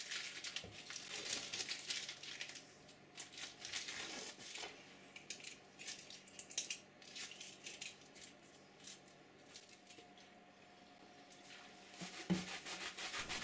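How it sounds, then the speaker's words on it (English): Masking tape being peeled off freshly painted wood panels of an MFT-style assembly table, a steady run of close scratchy tearing and rubbing strips, with no talking. "After the paint is dry, it's on to peeling off the tape."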